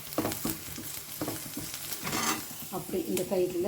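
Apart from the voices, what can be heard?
sautéing mustard seeds, lentils, chillies and curry leaves in oil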